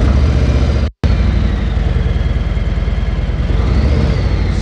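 A 2019 Harley-Davidson motorcycle with its stock exhaust starts after a brief silence and settles into a steady, loud, close idle with an even low rumbling pulse.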